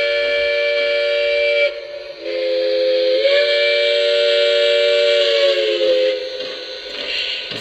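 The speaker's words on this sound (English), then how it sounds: "I have five different whistles." A model train steam whistle blows in several long, chord-like blasts with brief breaks between them, loud and close.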